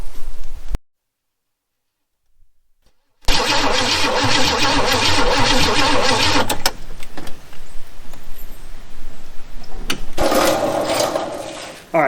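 A junkyard Chevy Nova engine gives a short loud burst, then falls silent for a couple of seconds before cranking again. It catches into a rough, uneven idle with sputters and revs, heard close up.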